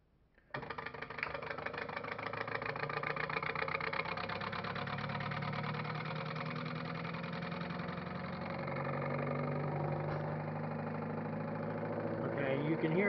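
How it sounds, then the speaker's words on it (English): A small single-pulse motor on a variable speed control whirs steadily after a sudden start, its tone rising slightly as it gets up to speed, a continuous close hum with faint buzzing. "this is the variable control on this small motor. It's a single pulse motor."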